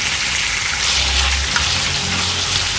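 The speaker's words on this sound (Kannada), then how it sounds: "ಟೊಮೆಟೊ ಹಾಕ್ಕೊಂಡು ಫ್ರೈ ಮಾಡ್ಕೊಳ್ಳೋಣ" Onions and tomatoes fry in a pan for Kannada-style mushroom gravy, a steady close, loud sizzle with bright hiss and faint stirring running unbroken throughout.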